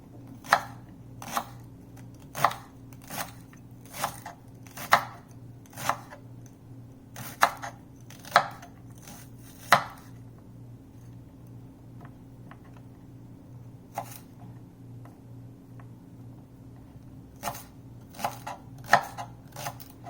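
Knife chopping shallots on a board for a Brussels sprouts dish, steady sharp taps in bursts with a pause in the middle, close and clear over a low steady hum.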